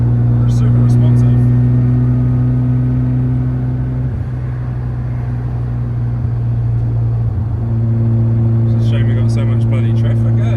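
Steady engine drone from a Mazda RX2 fitted with a G40 turbo, held at a constant pitch for a few seconds, dipping briefly, then settling again at a similar level, loud and continuous throughout, with a voice speaking over it.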